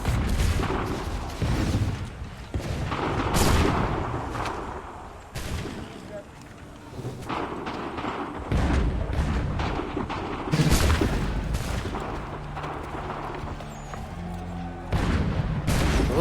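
Musket volleys and artillery booms from the video game Assassin's Creed III Remastered form a dense battle din, with repeated heavy blasts and crackling gunfire under occasional voices.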